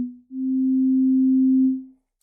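A single clean sine-like tone from the MooMu modular synth app holds steady for about two seconds, then fades out smoothly in silence.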